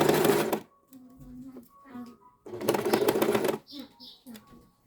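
A sewing machine stitching fabric along a curve runs in two short loud bursts of rapid mechanical whirring, close up, with someone speaking quietly between the bursts.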